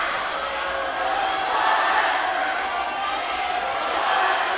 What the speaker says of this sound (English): Now we've got a crowd war going on again.